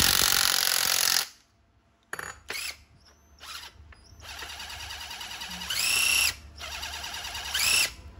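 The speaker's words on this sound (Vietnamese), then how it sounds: "vít búa mini, vít búa." A cordless mini impact driver runs in several bursts, giving a whirring, ratcheting mechanical sound with short pauses between runs. No voices are heard.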